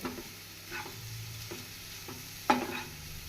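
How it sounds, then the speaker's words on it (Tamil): A spoon stirs moong dal puttu with ghee in a pan, giving soft, quiet scraping strokes at a loose rhythm and one sharper clink of metal on the pan near the end. "நாம் பாசிப்பருப்பு புட்டை சேர்த்து நன்றாக கலந்து விட வேண்டும் நெய்யுடன்"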